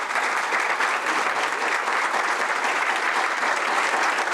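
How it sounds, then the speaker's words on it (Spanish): Audience applause at a public talk in the Cesar L. Alvarez Series on Cubans in America, greeting the guest Carlos Alberto Montaner: dense, steady clapping from a sizable crowd, loud and continuous throughout with no talk. "quiero pedir un aplauso para Carlos Alberto."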